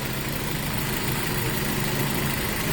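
An overhauled Toyota bB engine runs at a steady idle, a continuous close mechanical hum and rumble with no break and no voices.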